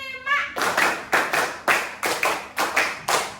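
Hand clapping in a counted classroom rhythm game, sharp claps grouped in a steady pattern, close and clear, with a brief voice at the start.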